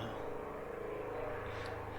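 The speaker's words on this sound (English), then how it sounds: "I get this chopper going by." A helicopter passes outside, a steady low rumbling drone heard from indoors that holds at an even level throughout, with no speech over it.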